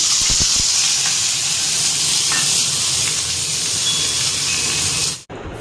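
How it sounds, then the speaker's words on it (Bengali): Bitter gourd and potato slices frying in too much oil in a wok give a steady, loud sizzle and hiss, close up and continuous, cutting off abruptly near the end. "উচ্ছে আলুটা ভাজা বসাবো"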